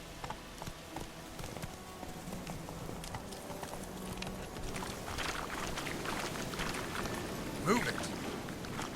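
Horse hooves galloping in The Witcher 3, a steady rapid clip-clop running continuously under game ambience, with a voice speaking briefly over it.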